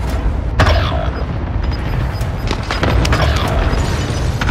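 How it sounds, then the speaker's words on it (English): Loud, continuous rumbling booms from an enemy precision airstrike in the Call of Duty video game, heavy low blasts layered with crackling debris and sharp pops across the whole stretch. "Enemy precision airstrike."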